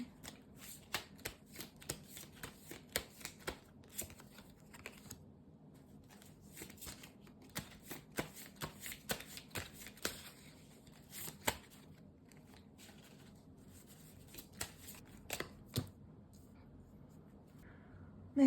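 Tarot cards are shuffled and drawn in a long run of crisp riffling and slapping bursts, close and fairly quiet, with short pauses between flurries and no talking.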